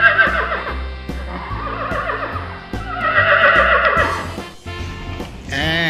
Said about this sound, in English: Horse, brown horse,